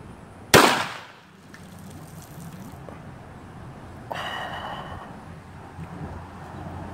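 A flare gun fired into a swimming pool: a sharp loud bang, then a fizzing, hissing burst a few seconds later as the flare burns underwater, over quiet outdoor background.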